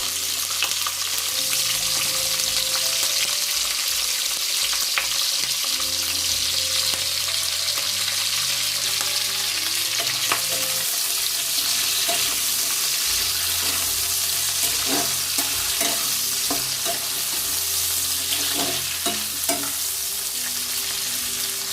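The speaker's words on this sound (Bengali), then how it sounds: "পেঁয়াজটা আমি বেশি ভাজবো না, কারণ বেশি ভাজলে পেঁয়াজটা নরম হয়ে গেলে খেতে ভালো লাগবে না।" Diced onions frying in a pan for a raw jackfruit kopta chili dish, a loud and steady sizzle that runs without a break, with occasional stirring clinks and scrapes near the end and no voices.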